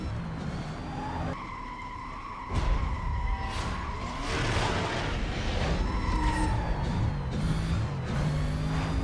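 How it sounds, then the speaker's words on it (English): A Mercedes CLK 500 racing in Need for Speed: Most Wanted (2005, PS2), its engine droning steadily with shifting pitch, tires skidding and squealing, and a siren wailing faintly behind the near, continuous drive. "I think this is the CLK 500 we're now driving here."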